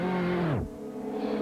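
A CART race car engine at the 1995 Portland round, heard onboard, whines high, then its revs drop sharply to a low growl before climbing again, loud and close.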